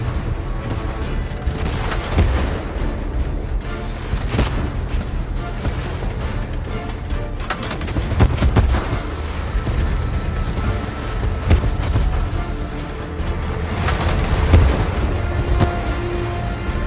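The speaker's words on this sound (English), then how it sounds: "Gunfire!" Loud, rapid bursts of tank-battle video game gunfire with heavy booms and crashes, continuing almost without pause throughout.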